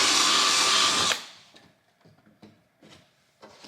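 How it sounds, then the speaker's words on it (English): A power drill with a 1/8 inch bit whines loudly and steadily for about a second through a mud flap on a GMC Yukon, then stops, followed by a few quiet clicks and knocks. "using an 1/8 inch drill bit, you can use the mud flap as a template"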